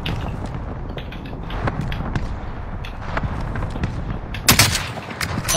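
Rapid bursts of video game gunfire in Warzone crackle steadily throughout, with a sharper, louder volley near the end over a dense background din.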